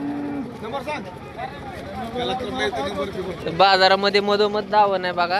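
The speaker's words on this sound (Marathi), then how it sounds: "तर बघा कशी गाय." Cows low at a busy cattle market in Modnimb, several moos rising and overlapping close by while someone talks loudly over them.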